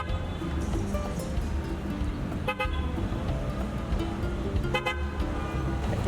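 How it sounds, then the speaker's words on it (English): Car horns blare twice over a constant rumble of traffic in Acapulco, Mexico, each honk loud and drawn out, against busy road noise. "unnecessary excessive honking"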